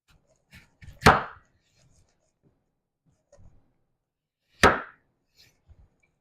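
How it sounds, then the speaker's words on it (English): A knife slices through a rinsed potato on a cutting board, giving two sharp, separate cuts a few seconds apart, close and crisp, with faint handling noises between them. "Now I'm just going to cut it right through the middle, again on the side, then again right here."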